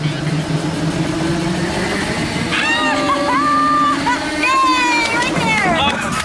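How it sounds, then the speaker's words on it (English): A model helicopter's rotors spin at full throttle, making a steady, loud droning hum that holds throughout while several people talk and call out over it. "With the rotors rotating, it looks like the additional weight will lead to the copter calamity they're looking for."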